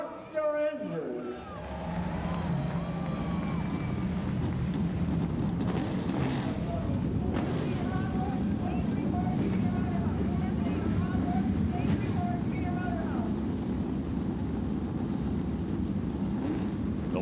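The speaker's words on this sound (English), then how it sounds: "Gentlemen, start your engines." USAC Silver Crown race car engines at the 2003 Hoosier Hundred fire up into a dense, steady roar that fills the air continuously after a short rough start, heard from a distance with open-air wind noise.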